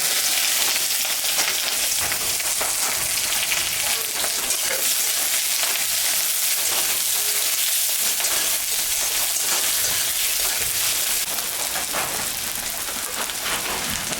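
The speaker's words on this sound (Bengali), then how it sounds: "এখানে আদা, পেঁয়াজ আর কাঁচা লঙ্কা আছে, এটা আমি এখন একটু ভাজা ভাজা করে নেব।" Chopped ginger, onion and green chili fry in hot oil in a pan, giving a dense, continuous loud sizzle like heavy rain, with no talk over it.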